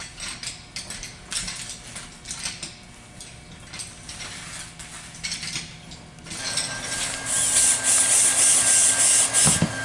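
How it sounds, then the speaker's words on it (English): A pneumatic air gun screws fittings down on a caravan roof, giving off clattering mechanical rattles and then a loud, sustained hissing whir in the second half, close by. "You can hear the air gun in the background."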